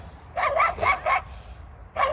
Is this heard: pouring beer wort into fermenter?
no